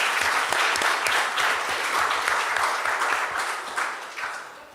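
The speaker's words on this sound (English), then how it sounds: "let's give them a big round of applause" Steady audience applause closing a panel discussion on blue carbon coastal wetlands, a dense, even wash of many hands that tapers slightly toward the end.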